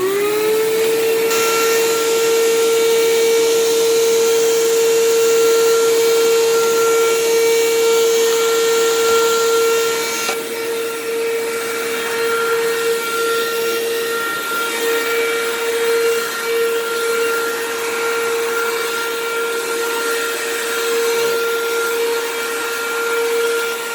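Vacuum cleaner set to its high pile setting, starting up with a rising whine and then running steadily on a high, constant motor tone with a broad hiss, close and fairly loud, alone with no voices.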